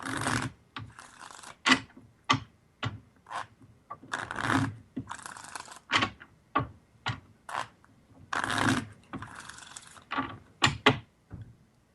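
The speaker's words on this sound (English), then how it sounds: "So let's hear you shuffle those cards right here." Tarot cards shuffled by hand in a studio, with quick papery riffles and flutters coming in irregular bursts across the clip, close and fairly quiet with no talk over them.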